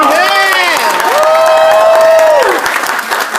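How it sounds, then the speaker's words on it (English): An audience applauds and cheers for Dr. Ed Cabantog at a seminar in Thailand, loud clapping under a voice calling out in long drawn, rising and falling tones. "how about another round of applause for Dr. Cabantog?"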